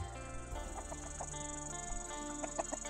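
Chickens cluck in short, scattered bursts at a roadside in rural Thailand, moderately distant, over a steady background hum and insect-like drone, with no talking.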